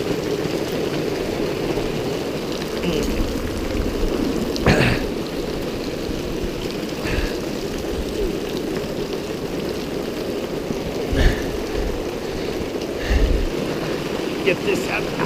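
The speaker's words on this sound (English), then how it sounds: "Now I think it's just rain now." Steady rain falls on a forest campsite in Dixie National Forest just after a pea-size hail storm, a constant broadband hiss with a few louder close patters and drips standing out now and then.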